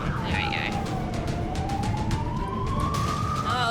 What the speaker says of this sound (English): Hang on, let me put a nicer siren on.